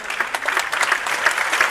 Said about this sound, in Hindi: उनके पेरेंट्स के लिए भी एक बार जोरदार तालियां हो जाए